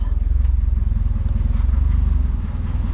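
A Ford Escort RS Turbo on MaxxECU management idles low and lumpy, a loud, close, rhythmic engine throb pulsing steadily with no talk.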